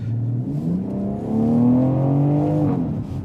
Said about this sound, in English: a lot of that engine noise bled through the microphone